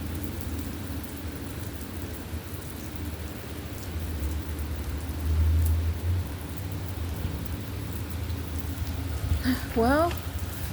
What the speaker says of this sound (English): the rain has finally come